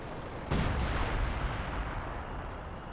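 Mortar fire in Company of Heroes 2: one heavy boom strikes about half a second in, then a long rumbling tail of battlefield noise with scattered gunfire continues under it.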